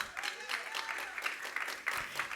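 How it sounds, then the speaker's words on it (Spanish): Congregation at a Spanish-language church service claps for the Lord, a brief burst of many hands clapping together in an uneven rhythm that swells and dips over a couple of seconds. "¿Cuántos le dan palmas al Señor?"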